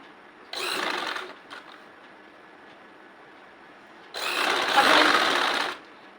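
A sewing machine stitches a petticoat in two bursts, a brief one-second run and then a longer, louder whirring run, with quiet pauses between.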